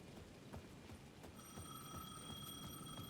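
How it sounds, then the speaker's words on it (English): Payphone ringing at the edge of a plaza in the game Alan Wake 2, a faint steady electronic ring with bright sustained tones over a low, murky ambient bed with scattered soft thuds. "The payphone at the edge of the plaza was ringing again."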